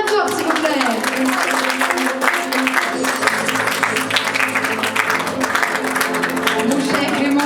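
Audience applause at a film festival awards ceremony, a dense sustained clapping from a crowd, loud and continuous, with music or voices underneath.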